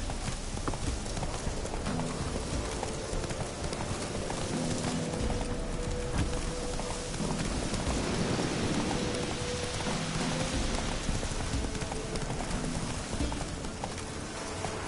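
Roach, a horse in The Witcher 3, gallops through rain with steady hoofbeats under a constant hiss of rainfall, all at moderate level throughout with no voices.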